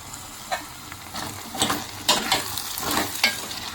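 Drumsticks dropped into a pot of boiled potato curry, giving a few scattered clunks and stirring scrapes over a soft bubbling simmer, close and moderately loud.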